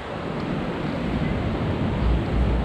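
Rough, choppy sea waves churn at a cold cove in Goderich, a steady close roar of surf mixed with wind buffeting the microphone and no speech.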